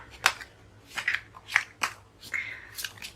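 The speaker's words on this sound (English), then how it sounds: "I will shuffle more cards" Tarot cards being shuffled in a pick-a-card reading, a handful of quick, quiet riffling and snapping bursts in an irregular rhythm, close by, with no talk.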